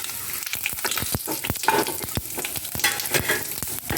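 Bay leaf, whole cumin and two dried red chilies sizzle in hot oil left over from frying fish, a steady close crackle punctuated by regular spoon taps against the pan, with no talking.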